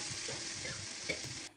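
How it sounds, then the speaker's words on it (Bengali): Vegetables stir-fried over a very low flame for vegetable pulao, with a steady soft sizzle, spatula stirring scrapes and a brief louder scrape near the end. "খুবই লো ফ্লেমে সবজিগুলো নেড়ে চেড়ে ভেজে নিচ্ছি।"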